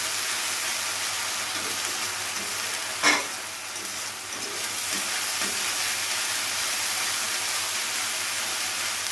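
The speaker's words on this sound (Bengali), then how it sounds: "এবারে এই তিনটেকে পেঁয়াজের সাথে খুব ভালো করে আমাদের কষিয়ে নিতে হবে।" Ginger, garlic and green chili paste fry with onions for a katla posto fish dish, a steady close sizzle with a single sharp scrape or clatter midway and soft stirring knocks, with no one talking.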